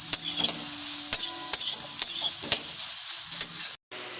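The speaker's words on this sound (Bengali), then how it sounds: "তো চলো মশলাটাগুলো ভাজাভুজি হতে থাকুক" Spices frying in a pan on full heat give a steady bright sizzle, broken by regular clinks and scrapes as they are stirred, close and alone before a brief cutout.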